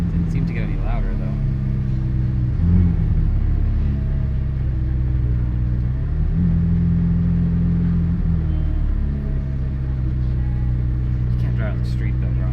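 McLaren Senna, full carbon, idling and running in manual sport mode, giving a steady low rumble that holds level throughout with people talking over it.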